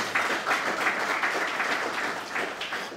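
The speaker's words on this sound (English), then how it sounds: "Give Mr. Wheatley a round of applause." Steady audience applause for a guest speaker at an anniversary evening event in the British Virgin Islands, a dense continuous wash of many hands clapping at moderate loudness for about three seconds, with no talk over it.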